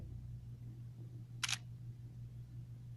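A single crisp camera shutter click from a phone document-scanner app, brief and fairly close, over a low steady hum in an otherwise quiet room.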